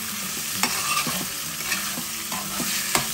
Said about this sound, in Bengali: চিকেনটাকে ভালোভাবে নাড়াচাড়া করে কুক করে নিতে হবে